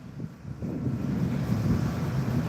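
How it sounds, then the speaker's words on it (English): Steady wind rumbles and buffets against the microphone, a low continuous roar with gusts and no voices. "I know it's a little windy right now, y'all."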